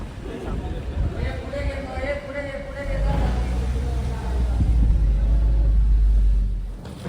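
A taxi car drives along with a deep engine rumble that swells louder partway through, with voices murmuring in the background.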